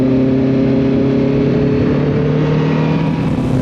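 A Kawasaki Ninja ZX-14 motorcycle engine roars loudly and close, a strong steady tone with harmonic drone as it accelerates hard, with no talking.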